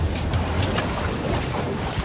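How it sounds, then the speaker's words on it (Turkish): Ocean waves crash hard against an Australian shoreline in a loud, continuous roar of surf, with heavy wind buffeting the microphone throughout and no voices. "Ama dalgalar fena vuruyor"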